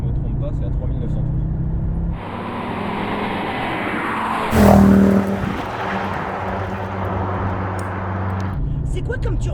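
An Audi 200 Quattro Turbo engine drones steadily while driving, its revs shifting and swelling briefly with a turbo whoosh midway before settling again, with people talking over the cabin hum.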